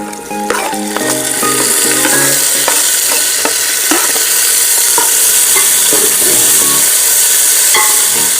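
Onion and tomato fry in hot oil for a village-style egg curry, a loud, constant sizzle close to the pan, with a utensil scraping and clinking against the pot as the pieces are stirred.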